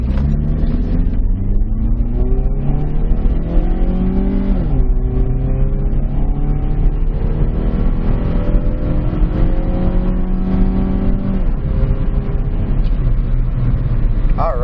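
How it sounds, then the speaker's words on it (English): A PT Cruiser accelerates hard in a closed-area eighth-mile test, heard from inside the cabin. The loud engine drone climbs steadily in pitch, drops sharply at two gear shifts, then climbs again. "now we are getting into our closed area to do a quick acceleration test"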